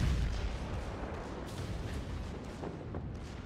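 Heavy naval gunfire from a battleship in World of Warships, a deep rumbling boom strongest at the start that rolls on as a dense, sustained low roar with faint crackles, loud and close.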